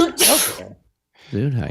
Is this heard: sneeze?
yes